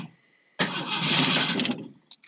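A 1970 Ford Maverick with a failing starter cranks once in a harsh, gritty burst of about a second. Two quick, faint blips follow.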